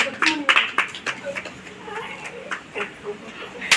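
Children at an anganwadi clap during a Children's Day celebration, scattered short bursts of hand claps spread through the moment, with a voice and adult talk mixed in.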